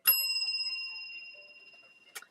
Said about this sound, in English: I'm just going to ring the bell to clear the air.